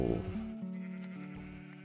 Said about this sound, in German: wenn man hier alle Schafe scheren tut